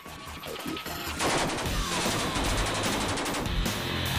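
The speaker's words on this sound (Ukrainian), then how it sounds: "Це бамс буде працювати з ПКМ, а Це я працюю з ПКМ" Sustained bursts of PKM machine gun fire during combat near a village outskirts, loud and close, with dense overlapping shots and distant gunfire behind them.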